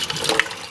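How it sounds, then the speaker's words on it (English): Cold water pours into a pan in a kitchen, a short splashing, gurgling burst with a brief bright plink partway through, close and fairly loud, with no voices. "And then we'll put some cold water in here."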